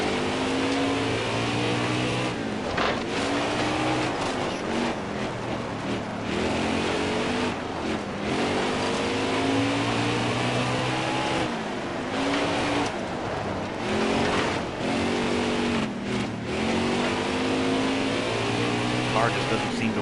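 Race car engine in the NASCAR Heat 4 video game, a steady loud drone with shifting pitch as the car revs and slows through corners, heard under someone talking.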